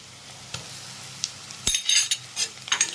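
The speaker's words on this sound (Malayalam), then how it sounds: "ഇനി അത് ചെറിയ വഴന്ന് വരട്ടെ" Crushed garlic and ginger sauté in a pan for a pearlspot fish curry. A faint sizzle runs under a few sharp utensil clinks and scrapes against the pan, which grow busier toward the end.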